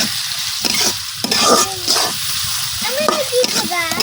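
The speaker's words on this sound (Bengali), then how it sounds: "পেঁয়াজটা কিছুক্ষণ ভাজা নিয়ে" Onions salted and frying in a pan give a steady close sizzle with scraping stirs, while a voice speaks intermittently over the cooking.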